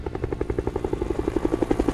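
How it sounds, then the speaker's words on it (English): Helicopter arriving in the video game State of Decay, its rotor beating in a fast, even, loud pulse throughout. "here comes the helicopter."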